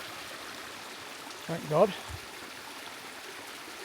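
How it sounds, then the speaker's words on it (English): San Cristobal Creek in northern New Mexico runs as a steady, gentle trickle and flow in the background, with a brief spoken exclamation over it. "So I'm guessing from down here this is San Cristobal Creek, but from here it's going to be running"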